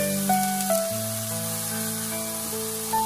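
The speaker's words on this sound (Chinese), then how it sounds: "翻过来以后我们再煎个两分钟左右" Eggplant pieces frying in oil in a pan give a steady soft sizzle and hiss, fairly quiet, with faint tonal kitchen hum in the background.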